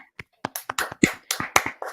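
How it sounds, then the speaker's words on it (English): A handful of sharp, separate claps ring out in quick, uneven succession, close and dry, like a small group or a few people clapping briefly. "Round of applause to him."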